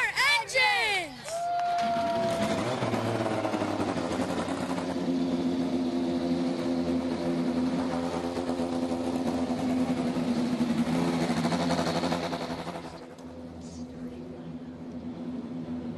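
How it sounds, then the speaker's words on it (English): Indy NXT race cars fire up and idle on the grid at the Grand Prix of Alabama, a steady engine drone with rising harmonics that persists for about twelve seconds before dropping away, with an announcer speaking over the start. "Drivers, start your engines!"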